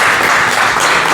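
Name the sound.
church congregation applauding the Trinity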